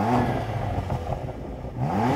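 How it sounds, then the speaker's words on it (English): A stationary BMW M2 CS engine revs hard, rising to a high roar, eases off and then climbs again, loud and close, with no talking. "I love the fact that BMWs let you rev all the way up."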